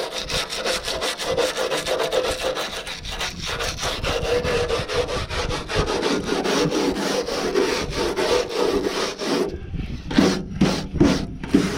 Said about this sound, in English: Onto a wire brush, just up in these grooves where I can't get with the sander.